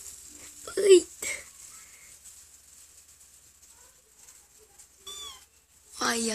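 A cat meowing, two or three short distinct meows spread across a quiet room, with a voice speaking briefly nearby.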